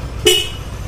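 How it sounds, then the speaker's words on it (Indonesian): A waterproof Denso disc horn fitted to an older Yamaha NMAX scooter gives one short, loud, close honk over a faint background rumble. "klakson Denso disc yang waterproof, ini suaranya seperti ini ya."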